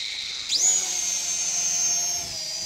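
Motors on a DWI X35 beginner drone with LED fan spin up with a quick rising high-pitched whine, then hold a steady close buzzing hum for a couple of seconds with no talking.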